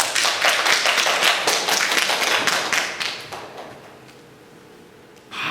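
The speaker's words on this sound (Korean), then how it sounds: "이럴 때는 좀 크게 박수 치는 건 좋은데." A church congregation in Silicon Valley breaks into dense, close clapping for about three seconds, then the applause thins and fades into quiet room tone, with a brief thump at the very end.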